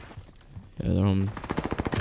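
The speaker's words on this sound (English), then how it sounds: "Enemy contact. I'm taking fire." Gunfire in Call of Duty Warzone Pacific, a loud rapid burst of automatic shots after a brief quieter lead-in, with a voice briefly present.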